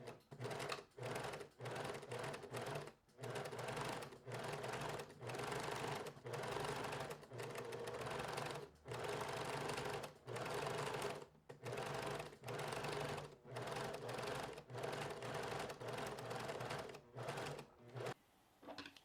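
A sewing machine stitches a blouse collar in steady bursts of rapid mechanical whirring, each run lasting about a second or two and separated by short pauses, close and clear with no talking.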